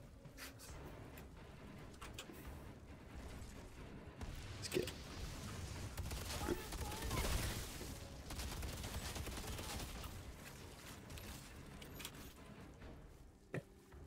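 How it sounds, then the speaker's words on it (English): Gunfire in the video game Outriders: a continuous, fairly faint stretch of rapid shots and battle noise lasting many seconds, with a few sharper bangs standing out near the end and no talk over it. "Sounds of guns are good, you must say."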